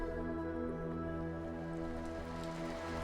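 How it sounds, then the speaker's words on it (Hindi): Torrential rain pours down during a fierce windstorm, a dense continuous hiss of drops that holds steady throughout over a low droning background. "इतने में बड़े जोर की आंधी के साथ मूसलाधार वर्षा होने लगी"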